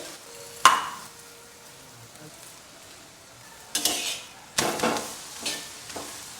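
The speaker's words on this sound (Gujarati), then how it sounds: "નીચેથી થોડું શેકાય એટલે પલટાવી લઈશું ઘી લગાવી દઈએ ફરી પલટાવી લઈએ" Methi thepla roasts with ghee on a griddle: a soft background sizzle broken by a few sharp scraping, clattering bursts as the flatbread is handled or flipped, with no talking.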